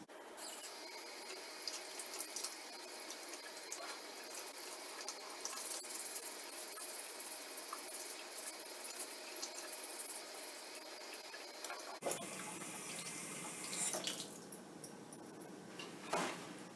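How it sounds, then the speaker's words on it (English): Tap water runs steadily into a sink as a potato is washed, a continuous close hiss of water with a change in tone partway through and a few faint clicks near the end. "Step 2, you are going to wash, dry, and shred the potato."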